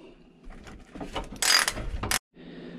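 A hand ratchet tightens the tow hook bolts on a supercharged Ford F150, clicking in short bursts of quick pawl clicks with a few louder metallic spins, then stopping.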